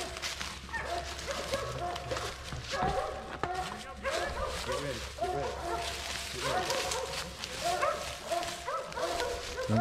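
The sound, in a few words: dog barking during a hog hunt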